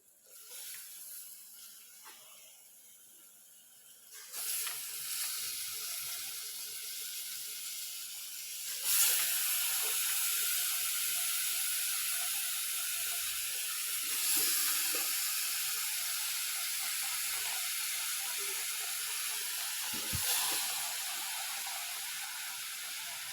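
Beef fries and sizzles in a pan with a continuous soft hiss that swells louder in stages and holds steady, fairly quiet and with no talk over it.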